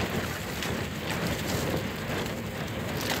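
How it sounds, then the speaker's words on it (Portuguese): Steady, strong night wind roars continuously on a high ridge at Campos do Quiriri, Brazil, with a broadband rush and gusty buffeting against the microphone, with no voices. "Por conta do barulho do vento."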